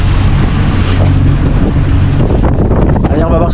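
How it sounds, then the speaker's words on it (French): Strong wind of around 28 knots roars steadily across a sailboat in the rain, loud and close with constant buffeting of the microphone and water noise beneath. "En plus, il pleut, il y a du vent."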